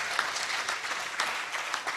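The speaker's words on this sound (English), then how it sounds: "please can you give these guys a round of applause" A crowd at a youth leadership debate quarter final applauds after the argument, a dense, even wash of clapping at moderate distance with no voices.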